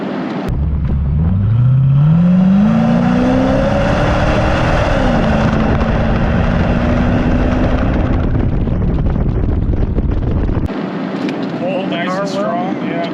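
A 1986 Chevrolet Corvette Pace Car Edition with an L98 5.7L V8 accelerates hard from inside the cabin, its engine note climbing steeply, shifting, then holding a strong drone before cutting off, with voices talking near the end.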